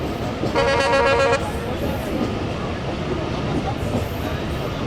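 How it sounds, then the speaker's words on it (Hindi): The 34 Down Pak Business Express, which runs between Lahore and Karachi, pulls into Yousafwala railway station. A loud horn blast sounds early on, then a steady rumble of rolling train and station noise continues. "ये आ रही है सामने से 34 down park business express Lahore और कराची दरमियान चलने वाली"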